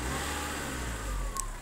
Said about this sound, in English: Press the brake down and press the start button and she starts up.